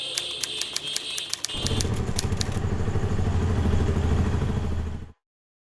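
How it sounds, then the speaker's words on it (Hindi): A motorcycle is ridden fast, its engine roaring close and loud after a brief clattering start, then cutting off abruptly. "क्या भाई, कितनी तेज बाइक चलाते हो?"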